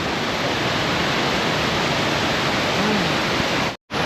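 Constant broadband rush of flowing water from a mountain stream along the Icefields Parkway in Canada, steady and loud, cutting out briefly near the end.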